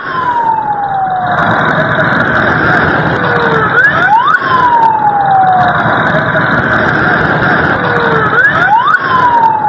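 Ambulance sirens wail loudly and continuously, the repeating rising and falling tones cycling several times as emergency vehicles rush past with traffic rumble underneath.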